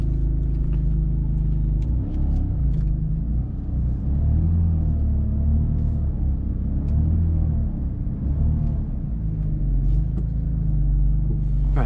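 BMW M4 engine as the car reverses under gas, a loud, steady low rumble and whir with gentle rises in revs and no talking.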